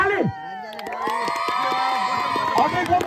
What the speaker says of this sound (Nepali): सम्पूर्ण खेलाडी साथीहरूले बेस्ट प्लेयरको लागि एकचोटि ताली